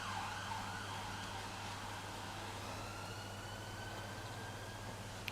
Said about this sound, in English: Oh, it's an ambulance